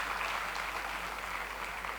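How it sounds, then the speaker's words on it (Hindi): Applause from an audience at a hospital event marking free cancer treatment by a hospital and foundation, a faint, steady wash of clapping lasting about two seconds with no voices over it. "एक ज़ोरदार तालियों से हम सर का जो है वो हौसला बढ़ाएं।"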